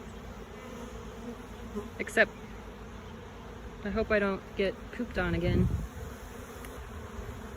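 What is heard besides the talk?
honey bee swarm buzzing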